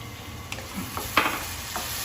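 Blended tomato puree sautéing in masala in a pan, a soft steady sizzle with a few light stirring scrapes, fairly quiet and close.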